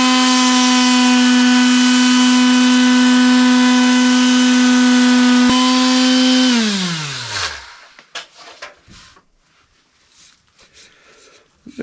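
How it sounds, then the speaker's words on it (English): An electric sander smooths a wooden toy dump truck part with 220-grit paper. A loud, steady motor whine runs for about six seconds, then winds down, followed by quiet handling knocks. "I'll just touch that up and sand it real quick, and we'll use the 220."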